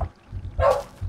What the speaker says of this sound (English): Zoe's barking.